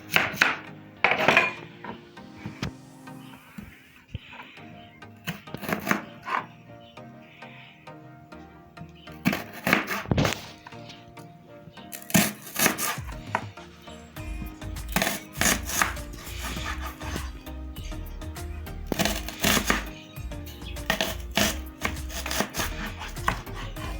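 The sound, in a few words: chopping vegetables with a knife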